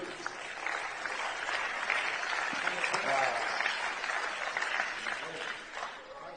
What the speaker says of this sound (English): Big round of applause for Louis.